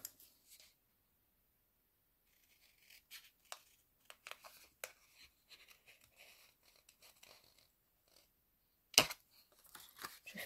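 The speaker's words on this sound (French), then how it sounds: "Je vais le découper." Scissors cutting a paper bookmark at close range, faint irregular snips and paper rustles after a quiet start, ending with a sharper crinkle.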